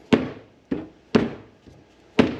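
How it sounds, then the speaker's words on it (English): Four sharp hammer blows on a new rubber motor mount being driven onto the shaft of a B&G circulator pump, spaced at uneven intervals, each a crisp close knock with a short decaying ring. "we're going to just hammer it on"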